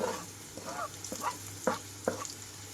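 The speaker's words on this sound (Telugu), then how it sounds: "నేనైతే కట్ చేసి పెట్టుకున్న ఉల్లిపాయలు అలాగే పచ్చిమిరపకాయలు కూడా వేసేసుకుంటున్నాను" Onions and green chillies frying in hot oil, a steady low sizzle broken by several short scraping stirs of a spoon against the pan.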